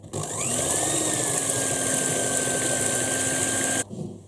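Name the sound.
electric hand mixer whipping egg whites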